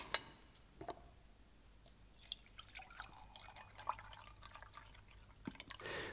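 Water poured into a lab container already holding sodium hydroxide and sugar, heard as soft, faint drips and trickles with a few small clinks across a quiet background.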